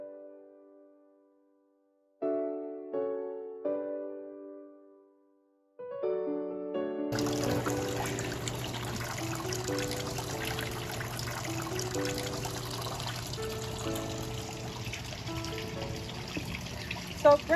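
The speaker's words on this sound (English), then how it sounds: "You saw the water feature with the, is that a lion head up there, Flicka?" A garden water feature in the sunken patio of the Wenatchee Valley Museum trickles as a steady wash of running water that starts partway through. Sustained musical tones ring before and over it, and no one speaks.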